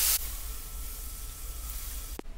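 Garlic frying in a little oil gives a soft, steady sizzle with a brief sharp clatter at the start and a small knock near the end, fairly quiet and without talk.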